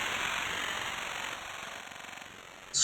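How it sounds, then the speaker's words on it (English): A scrape effect produced by a Portal plugin preset for drum and bass atmospheres: a dense, grinding mechanical texture, loud and steady, slowly thinning out before a sudden burst at the end, with no voices. "Scrape effect."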